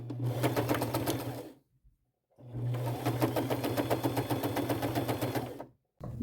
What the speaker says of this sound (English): my sewing machine is set up